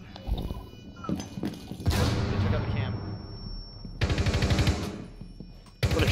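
Gunfire in Rainbow Six Siege, with sharp close shots and two longer rapid automatic bursts ringing out loudly, separated by brief gaps, with voices in the background.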